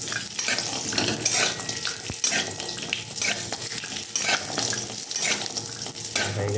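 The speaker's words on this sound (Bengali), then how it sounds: "আর কয়েকটা কিশমিশ আমি একটু ঘির মধ্যে ভেজে নেব" Raisins and cashews fry in ghee for sabudana payesh, making a loud, dense sizzle with bubbling crackle and a few stirring scrapes close by.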